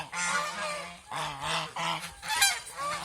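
A farm duck near egg-laying age gives loud, nasal honking calls in several close bursts separated by short pauses.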